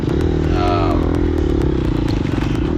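Gas Gas EX250F dirt bike engine droning steadily and loud at close range during a harescramble race, with a wavering pitch as the throttle rises and falls, plus clattering and scraping from the trail.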